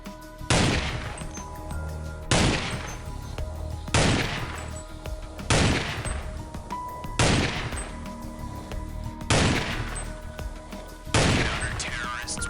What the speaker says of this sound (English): All known as sniper rifle, SG550 sniper